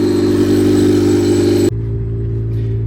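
Slammed turbocharged Honda Civic engine running close by, a loud steady droning hum that drops sharply in pitch and brightness partway through as the revs fall back, with no voices.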